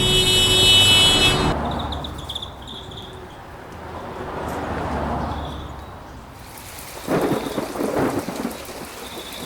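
Rain and thunder used as a sound effect in a Bengali ghost story, with steady rainfall hissing throughout, a rolling rumble of thunder swelling and fading, and a harsher burst of rain near the end, with no talk.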